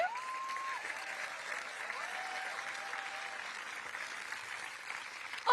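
An audience applauds at a political party summer-school speech. The clapping is sustained and moderately distant, with a few steady tones over it and a sharp burst at the end.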